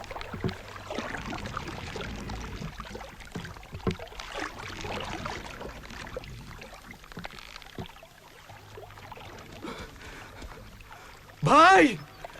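A rowboat moves across water with soft, steady splashing and lapping throughout, voices murmuring in the background, and a brief sharp chirping burst near the end.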